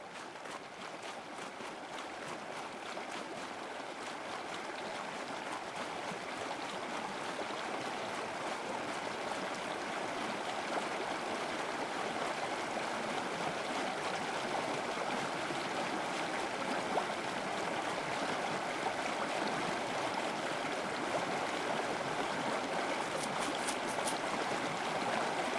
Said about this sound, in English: Nope, there's the river.